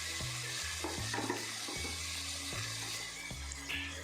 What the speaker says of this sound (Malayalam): ഇനി നമുക്ക് ബീൻസ് ഇടാം.